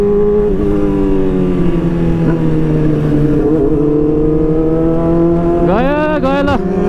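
Close, loud roar of a superbike such as a BMW S1000RR, CBR 600RR or Ducati holds a steady droning pitch, then snaps through a sharp rising rev near the end.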